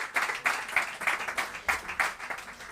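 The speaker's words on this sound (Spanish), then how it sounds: "Aplausos para vosotros y también para Felipe" A small audience claps in a fairly sparse, uneven round of applause at an event about the evolution of city commerce, heard at a moderate distance with clear individual hand claps.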